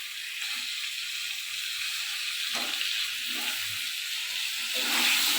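Cabbage with whole chillies and a few tomato pieces is stirred in a hot frying pan, giving a steady close sizzle and hiss with soft scraping strokes of the spoon.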